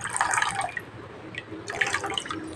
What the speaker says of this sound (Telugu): 1/2 కప్ వాటర్ యాడ్ చేసుకుంటున్నా.